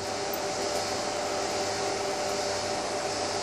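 An IGBT brick driving a ferrite transformer on roughly 16 to 18 volts gives off a steady, unbroken electrical whine with a constant tonal hum, even and loud from start to finish.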